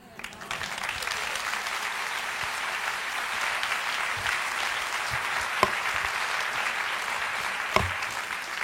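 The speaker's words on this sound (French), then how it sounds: "Tous vos applaudissements pour le colonel Jack Crean" Audience applause for Colonel Jack Crean at a conference gathering, sustained even clapping from a sizeable crowd heard at moderate distance, with a couple of sharper claps standing out.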